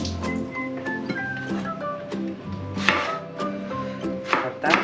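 A knife chops spring onion on a cutting board, making rapid, close, fairly loud taps in an uneven rhythm, with light clatter between strokes.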